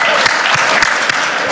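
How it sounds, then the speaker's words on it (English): An audience bursts into applause at a company meeting, loud close-up clapping from a crowd with a few sharp individual claps standing out. "Round of applause to Johnny."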